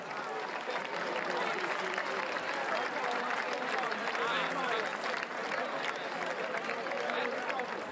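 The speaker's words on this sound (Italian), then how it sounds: "Un applauso." Sustained applause from a live concert audience in Ascoli Piceno, Italy, a dense steady clatter of many hands filling the whole stretch, loud and close, with crowd voices mixed in.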